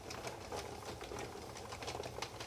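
A Sentro knitting machine works Premier Just Yarn Plush, giving a faint, steady run of rhythmic clicking and rattling close by, with no talk.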